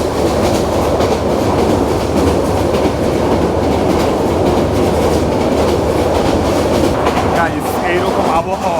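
The Sonar Bangla Express runs from Dhaka to Chattogram past hills in rain, a loud, continuous rumble of wheels and carriages with rhythmic clatter heard from inside and a brief squeal near the end.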